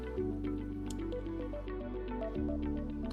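Kava agitated and kneaded by hand in hot water, producing close, soft wet squishing and dripping sounds in an irregular rhythm over a low steady hum.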